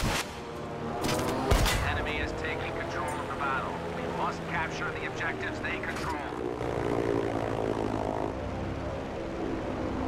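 Propeller warplanes drone overhead in the Battlefield 5 video game, a loud sustained engine roar with bursts of gunfire, while someone talks over it throughout.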